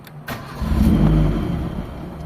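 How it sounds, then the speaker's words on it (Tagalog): A car engine with an idle fault that stalls when the gas pedal is released cranks briefly, catches and revs up into a loud, sustained mid-pitched roar close by. "Ayan, start tayo ng engine"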